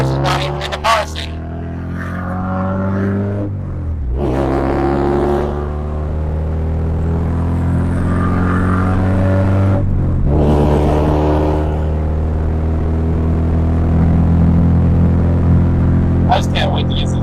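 A widebody Acura RSX with a broken exhaust drones and revs up and down, its rough engine tone steady and close, with people talking over it throughout.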